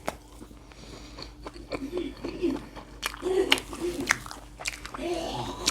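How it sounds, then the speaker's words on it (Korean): Close chewing of gwamegi, a dried Korean fish, with soft wet bites and small crunchy clicks repeating irregularly, plus faint murmured hums from the eater. "이렇게 추운 계절에는 과메기를 먹어줘야 되거든요"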